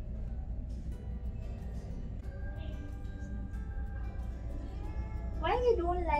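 A cat at a shelter rescue gives one loud, wavering meow near the end, after a stretch of quieter room noise and muffled talk.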